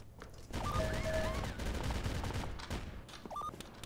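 Rapid gunfire from the video game OpenArena, played on Nightmare difficulty, comes as dense bursts of shots with electronic tones, fairly quiet overall.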